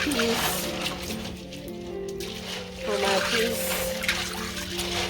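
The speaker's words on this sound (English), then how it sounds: "So I'm washing my peas, and then I'm gonna strain it." Dried peas being washed and rinsed by hand in water in a home kitchen, with continuous trickling, sloshing and swirling close by, while a person talks over it.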